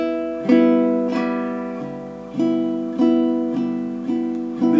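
Baritone ukulele strummed alone, a series of full, ringing chords struck roughly every second or so, each decaying before the next, close and clear.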